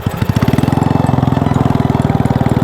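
A motorcycle engine with a loose, detached exhaust pipe runs loud and close, with a rapid, even, throbbing beat and no pauses.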